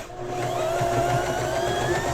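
A Janome 311PG sewing machine runs a G stretch stitch on knit fabric, giving a steady close motor whir with a faint rhythmic needle patter throughout, no voices.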